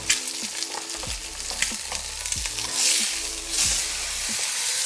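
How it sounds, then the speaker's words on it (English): Eggs and steak fry together in a pan, giving a continuous sizzling hiss punctuated by intermittent clinks and scrapes of a utensil, with a couple of brief surges in the spitting noise. "On this side, I'm going to crack in the eggs."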